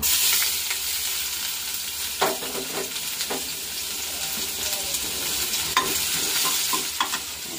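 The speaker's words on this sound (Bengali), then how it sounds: "রসুনটা এখন দিয়ে দেবো তেলের মধ্যে" Crushed garlic dropped into hot oil in a small home kitchen, sizzling steadily and close, with occasional spoon scrapes and stirring clicks over the hiss.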